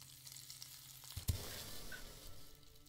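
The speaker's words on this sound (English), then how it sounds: "Let's cook the meat." In the western survival game Above Snakes, meat fries in a cooking pot with a quiet, even sizzle and a single brief clank partway through, no voice present.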